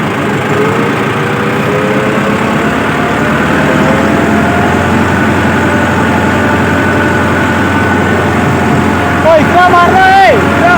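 A Massey Ferguson 385 4WD tractor engine runs with a steady, heavy low rumble close by on a farm, holding a constant drone while brief higher whines appear near the end.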